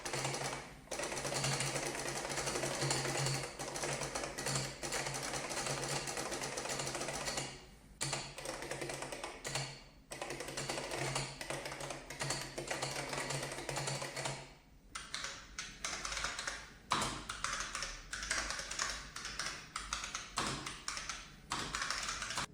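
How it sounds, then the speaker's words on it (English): Typing on IBM 3101 terminal keyboards, first with the solenoid on and then with it off, gives continuous rapid clacking keystrokes at close range, loud and dense, with brief pauses between bursts and no talking. "Let's have a typing demonstration to hear how each keyboard sounds like."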